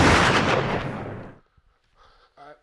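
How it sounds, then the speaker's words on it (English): A gunshot rings out as one loud, close blast whose rumbling tail fades over about a second and a half, followed by near silence broken only by a few faint small knocks and noises. "they must have been shooting at somebody else"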